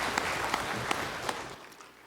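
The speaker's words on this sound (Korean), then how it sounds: "찬양의 박수를 하나님께 드리겠습니다." A church congregation claps in praise during a worship service, a dense burst of applause with sharp individual claps that fades out near the end.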